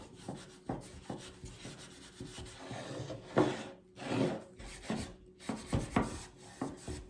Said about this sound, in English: just wax the board.